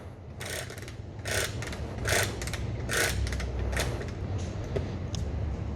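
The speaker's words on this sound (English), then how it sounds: "we got a wind up kickstart. So I'm just gonna put a couple winds in it." A wind-up kickstart on a 1980 Honda Express NC50 moped is cranked, producing several bursts of ratcheting clicks spaced about a second apart, close and fairly loud, with no voices.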